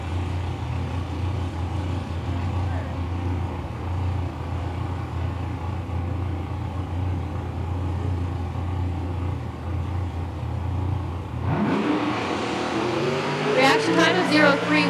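A nostalgia drag race car stages in the left lane at a Fuel & Gas qualifying meet, its engine rumbling steadily before a sudden loud launch with a sharply climbing roar near the end, while an announcer's voice carries over it.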